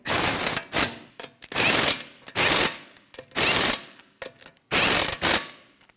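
Ratchet wrench snugging the five lug nuts on a 2012-2016 Honda CR-V wheel: loud, close bursts of rapid clicking in about seven separate strokes, each followed by a brief pause, with no talking.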